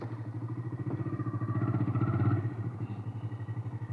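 A 125cc motorcycle idles on a muddy road, its close engine throbbing in a steady, evenly pulsing rhythm for about four seconds without speech.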